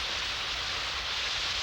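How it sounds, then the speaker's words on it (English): Rain falling steadily outdoors on an island, a soft, even hiss of drops spread across the whole clip with no talk over it. "Heavens, it's raining again."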